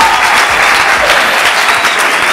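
A studio audience of students from a missionary school complex applauding and cheering on a television show, dense and loud clapping throughout.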